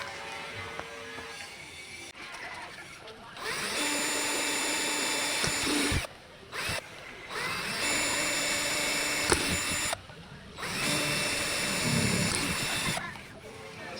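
A power drill fitted with a 1.8 bit bores holes in a dryer machine's top cover, a loud whining buzz running in several long bursts separated by short pauses, close up.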